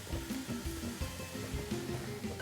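Onions frying in a couple tablespoons of oil in a pan give a steady, close sizzle that runs without a break, with a few faint clinks and soft stirring noises over it.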